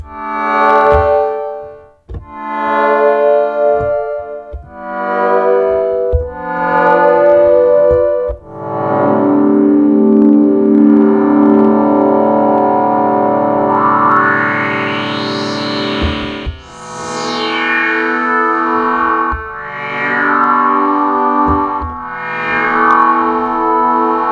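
A KORG Minilogue synthesizer plays sustained, harmonically rich notes through a delay that adds noise. The sound is loud, with sweeping pitch glides and echoing tails across a long passage, and no voices.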